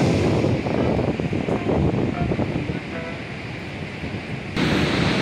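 Niagara Falls, the US Falls, roars as a dense, steady wash of falling water close to the microphone, joined by wind buffeting, with a brief dip and then a louder surge near the end.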